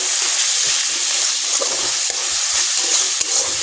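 Spice paste with coriander leaves and a green chilli frying in a pan: a steady close sizzle with scraping stir sounds and small pops throughout, with no talking.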